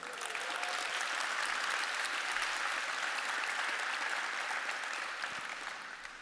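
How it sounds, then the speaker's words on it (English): Sustained applause from a large audience at a product announcement, celebrating Ethereum's move to proof of stake; dense, even clapping holds steady for about six seconds, then tapers slightly near the end. "I think we can do another round of applause for that."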